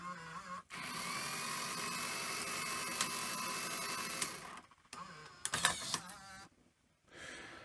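A Sony EV-S700 Video8 deck runs its cassette eject mechanism, a long, quiet motor whir followed by several sharp mechanical clunks and clicks, then near silence.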